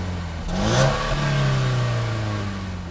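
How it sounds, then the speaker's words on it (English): A 2017 Mercedes-Benz C300 4Matic coupe's 2-liter turbocharged four-cylinder revs up in one close, loud sweep, holding a rising then steady engine tone for a few seconds before easing off. "Under the aluminum hood lives a 2-liter turbocharged 4-cylinder"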